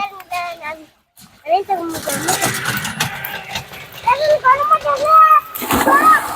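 Twin brothers splash and slosh in water while bathing, bursts of splashing alternating with children's voices and an adult talking over them, lively and close.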